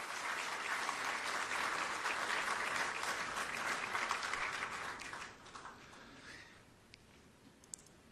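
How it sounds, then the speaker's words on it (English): A crowd applauds at a presidential swearing-in ceremony in Ghana, steady dense clapping that tapers off toward the end and leaves a few scattered claps, heard at a moderate distance. "Another round of applause, please."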